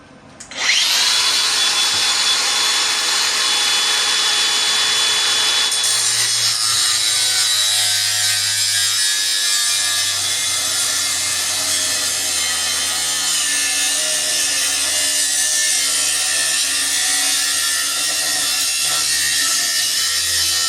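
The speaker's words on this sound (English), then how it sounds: "Let's get my trusty grinder." An angle grinder spins up and cuts through a metal treadmill handrail bar held in a vise, a loud continuous high-pitched shriek with a low motor hum that holds steady for about twenty seconds, close and without talk.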